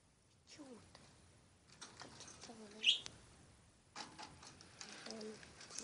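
Pet parrots kept at home give a brief sharp chirp amid quiet rustling and faint soft voice-like sounds, heard close and at low level.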